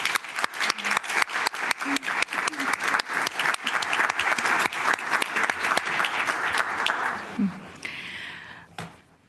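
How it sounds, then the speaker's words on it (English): A city council meeting audience gives a round of applause, dense and steady clapping from many hands at close to moderate range, holding strong for several seconds before thinning and fading toward the end. "please join me in a round of applause"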